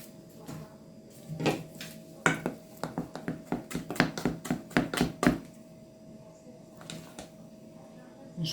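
Pastry dough for zlabia is worked in a bowl, giving a run of rapid, fairly loud thuds and slaps up close, then slowing to a few sparse knocks, with a voice heard faintly at times.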